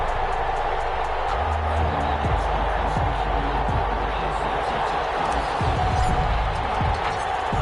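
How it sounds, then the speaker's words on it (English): Broad, steady roar of a stadium crowd in an EA Sports NFL video game before a Green Bay Packers versus Detroit Lions matchup, with scattered thumps and claps, continuous and full under a commentator's talk. "This crowd is ready as their guys get set to match up between the Green Bay Packers and the Detroit Lions"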